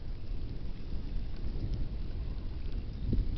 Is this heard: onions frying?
no